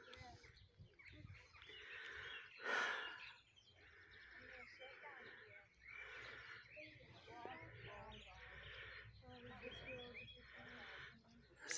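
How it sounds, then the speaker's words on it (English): Birds calling and chirping off and on in the background at Rievaulx Abbey, North Yorkshire, England, with crow-like caws mixed in, while people talk over them. "Listen to the birds."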